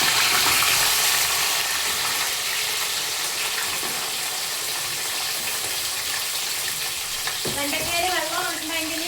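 Okra and drumsticks fry in hot oil with a loud, dense, continuous sizzle close by, and a faint voice or tone emerges near the end.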